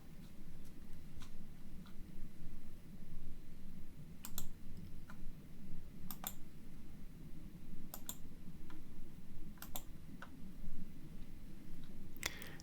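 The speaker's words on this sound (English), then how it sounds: "Neglect the captured mouse click sound." Sharp, faint clicks at irregular intervals, sometimes in quick pairs, over a low steady background hum.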